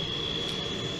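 A MiG-23 jet engine roars steadily after relighting, a dense continuous rumble with a sharp high whine held throughout, loud and close with no talking.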